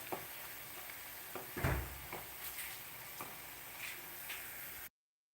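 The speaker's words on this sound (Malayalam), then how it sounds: "നമ്മുടെ ആ ഇഞ്ചിയും വെളുത്തുള്ളിയും കൂടെ ആ സവാളയും കൂടി ശരിക്ക് വഴന്ന് വന്നിട്ടുണ്ട്" Ginger, garlic and onion sauté in a pan for beef roast, a steady low sizzle with occasional stirring scrapes and knocks close by, no talking, cutting off abruptly.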